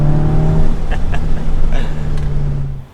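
Audi S3 with its small engine and an AWE SwitchPath exhaust, revving loudly and close by in a steady, droning blip with no talk.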